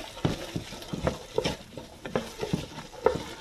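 Chopped celery stirred in a cooking pot for a vegan Southern spicy bean dish, giving soft scraping and light sizzling strokes at an uneven rhythm, close and moderately quiet, with no talking.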